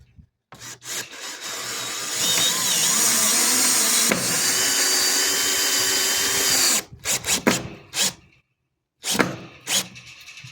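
Power drill countersinking screws into a utility trailer's wood floor, run in low gear under heavy pressure: a long, loud continuous grinding whir, then several short bursts of drilling separated by brief pauses.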